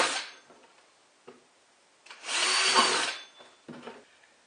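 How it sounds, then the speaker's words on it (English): A power drill with a 3/16 bit bores drainage holes in the bottom of a garden container: a short burst at the start, brief clicks, then one louder second-long drilling whir, and a final shorter burst. "So I've got a 3/16 drill bit here, and I'm just going to run a couple holes right at the bottom"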